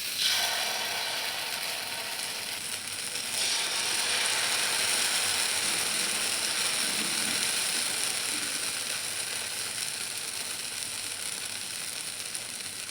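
Dudhi (bottle gourd) and moong dal cheela batter sizzles steadily in oil on a hot tawa, a dense, even hiss that holds loud and close throughout with no talking.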